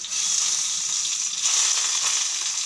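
Chopped garlic dropped into hot oil with dried chilli and black cumin, giving a loud, continuous hissing sizzle that holds steady throughout with a brief crackling swell partway through.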